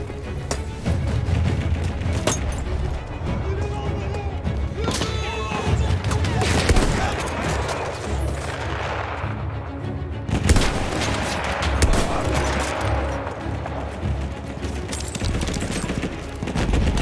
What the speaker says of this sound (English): The Vickers gun rate of fire sound now, right?